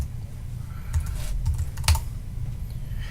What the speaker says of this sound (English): I can type Chrysler.